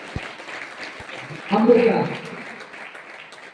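Students and audience at a motivational class in a school hall give a short burst of applause for a student, swelling for under a second and fading, with a speaker talking before and after it.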